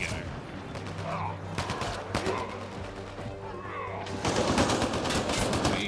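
Gunfire in the sci-fi shooter game Mass Effect Andromeda crackles in rapid bursts and single shots throughout, growing denser and louder near the end, with voices talking intermittently.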